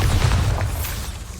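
A Bombarda spell explosion in the video game Hogwarts Legacy, a short, heavy, low boom that swells and then decays over a second and a half, loud and close with no voices.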